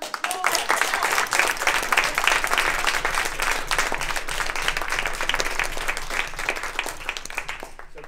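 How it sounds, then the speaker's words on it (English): A Toastmasters meeting audience gives a round of applause: dense, steady clapping from many hands that fills the room for about eight seconds before starting to thin at the end. "So let's give her a Yeah. round of applause."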